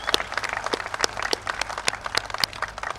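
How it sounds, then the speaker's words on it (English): Crowd clapping at a Workers' Party political rally in Hougang, Singapore: scattered, uneven handclaps from many people over a few seconds, moderately loud without any speech. "You guys should give yourself a round of applause"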